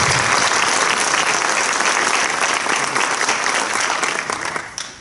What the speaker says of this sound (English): a nice little round of applause for Blake for doing that for everybody